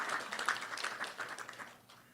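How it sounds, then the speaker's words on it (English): Applause from a science meeting audience for a speaker: a short, even patter of many hands clapping with no talk, tapering off toward the end. "Let's give Dr. Miller a round of applause"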